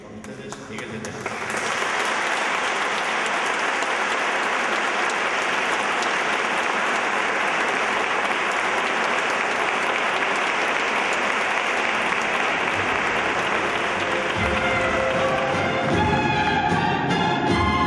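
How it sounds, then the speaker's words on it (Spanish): Audience applause for a saeta singer at an event in Águilas, swelling in after a couple of seconds into a loud, dense, sustained wash of clapping that thins slightly near the end. "Brindémosle un buen aplauso a Miguel de Tena"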